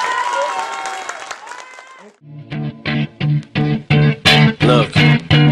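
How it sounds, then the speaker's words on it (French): Applause and crowd noise at a school talent-show evening, fairly loud and steady for about two seconds, then fading out as music with a heavy, repeating beat cuts in and takes over. "On peut les applaudir."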